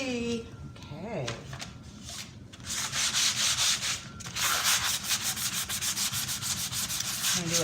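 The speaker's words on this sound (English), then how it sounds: "I'm going to do a light sand." Light sanding by hand, a soft scratchy rubbing in steady back-and-forth strokes that grows louder partway through, with a voice speaking early on.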